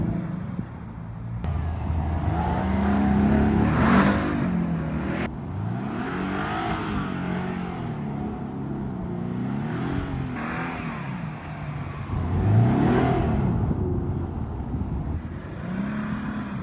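A Subaru Impreza engine revs repeatedly, rising and falling in pitch several times, loud and close, with brief surges and no voices over it.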